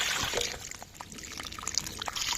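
Water gushes steadily from a pipe into a flooded paddy field, a continuous close splashing and trickling flow with no talk.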